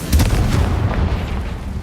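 A Confringo spell explosion in Hogwarts Legacy, a loud booming blast with a rumbling low-end burst right at the start that rolls on through the rest of the short moment, with no talk over it.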